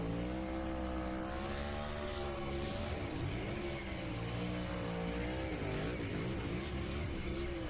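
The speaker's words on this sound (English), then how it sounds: "That's a burnout worthy of a 3-time champion." NASCAR Cup Series race car doing a celebratory burnout after the championship race, its engine roaring steadily and loudly with wavering pitch and tire squeal for the whole stretch, no talk over it.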